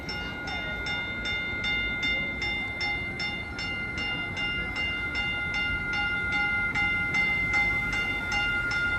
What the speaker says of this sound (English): here comes our train to South San Francisco. Comes Caltrain 637.